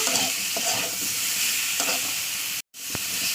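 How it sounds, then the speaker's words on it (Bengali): Spices sizzle loudly in hot oil while a utensil scrapes and stirs through them, with a momentary break in the sound. "আবার এটা তেলের সঙ্গে ভালো করে মশলা ভাজা করবো"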